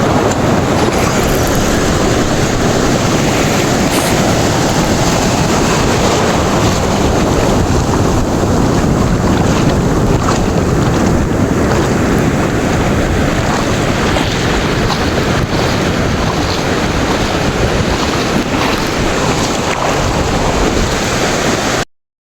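A boat rides out on the sea at Gopalpur, with a constant loud roar of wind and water rushing past the boat that keeps up for the whole stretch.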